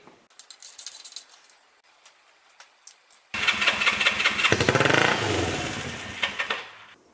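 A Honda CB360 motorcycle engine is cranked: scattered clicks and taps come first, then it catches into a loud, rough, sustained churning run that fades near the end.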